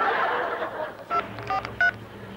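A telephone number is keyed in as a few short electronic dialing tones beep over a quiet room, with faint chuckling in the background.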